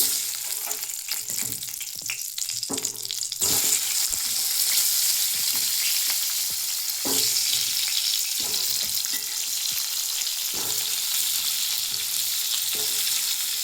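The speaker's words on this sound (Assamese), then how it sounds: "এতিয়া আলুকেইটা ভাজি ল'ম" Potatoes frying in a pan for a home-cooked Assamese fish curry with cauliflower and peas, a steady loud sizzle with occasional stirring scrapes and clinks throughout.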